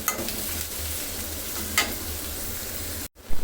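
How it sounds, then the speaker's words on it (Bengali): Sliced onions sizzle and fry in a pan with steady, close crackling and a brief stirring scrape partway through. The sound cuts out abruptly near the end, then resumes. "ভেজে পেঁয়াজটা আর একটু হবে"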